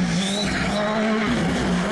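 A race car drifting in a GTR video game time trial, with a sustained, loud tire squeal over a droning engine note that bends in pitch through the slide.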